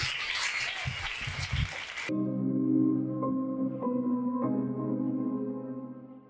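Church congregation at an evangelical service applauding, a burst of loud crowd clapping for about two seconds that gives way to sustained organ-like keyboard chords.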